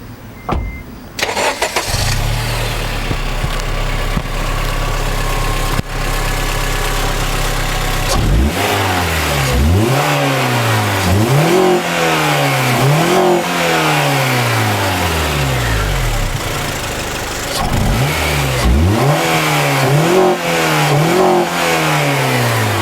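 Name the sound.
2008 Honda Civic Si engine revving while parked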